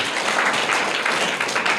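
A classroom audience applauds a student who gave a correct answer, dense steady clapping from many hands for about two seconds, close and fairly loud.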